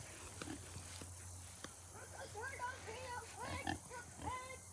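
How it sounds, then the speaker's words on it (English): Hungry pigs on a farm grunt and oink in scattered, overlapping bursts, faint and a bit distant under a constant low hum, with people talking nearby. "Pigs are hungry. They are hungry."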